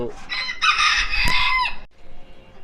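A Golden Sebright rooster crows loudly and close by at a backyard coop where hens are also kept, one full cock-a-doodle-doo followed by a brief softer cluck.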